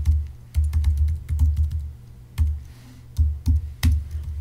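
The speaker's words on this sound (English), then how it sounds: "I'm going to type a link to a document" Code being typed on a computer keyboard while writing a CSS stylesheet link: close, irregular bursts of clacking keystrokes with short pauses between groups, no talking.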